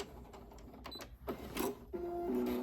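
A sewing machine stitches fabric for a makeup brush roll in short, near bursts of mechanical whirring, with brief pauses as the seam is backstitched and restarted.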